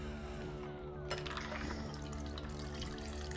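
Liquid poured through a strainer in a home kitchen while making a hot dog topping, a steady gushing trickle that runs continuously at close range with faint clatter.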